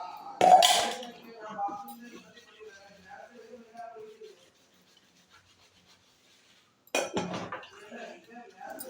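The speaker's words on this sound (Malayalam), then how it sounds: "ഞാൻ കുറച്ച് പാത്രങ്ങൾ കഴുകാനുണ്ടായിരുന്നത് അത് കഴുകാനായിട്ട് പോയി" Dishes and pots being washed clink and rub together in two sharp bursts, one near the start and one near the end, with quieter scraping and handling in between and a silent gap.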